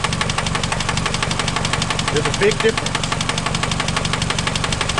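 An engine with a spinning connecting rod bearing knocks in a fast, steady metallic rhythm over a rough idle, close and loud, while someone speaks briefly over it.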